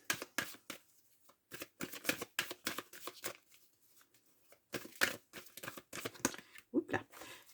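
A deck of oracle cards is shuffled by hand in quick riffling bursts, with short pauses between them. The shuffling is close and soft, and nobody speaks over it.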